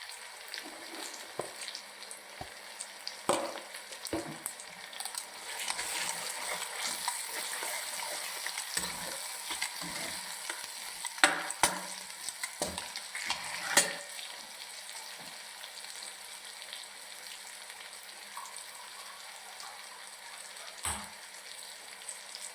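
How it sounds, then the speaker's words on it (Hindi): Masala with salt, turmeric and red chilli sizzling and frying in a pan, a continuous crackling sizzle broken by sharp scraping clicks of stirring, close and steady without talk. "माशाल्लाह मसाला भून रहा है अच्छी तरह"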